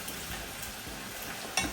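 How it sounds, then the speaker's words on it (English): Potato fries crackle in hot olive oil in a pan with a steady, dense sizzle, close by, with a faint stirring scrape near the end. "we're going to let those fry for a few minutes"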